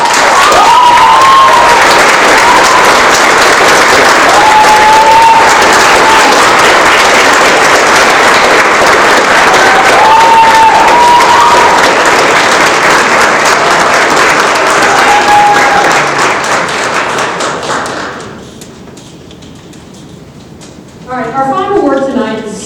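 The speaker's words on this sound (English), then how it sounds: "Please give a big round of applause for our Shared Values Award winner, Toby Barnes." Large audience applause at a student leadership awards ceremony, a loud dense wash of clapping sustained for about eighteen seconds before fading, after which a speaker begins talking.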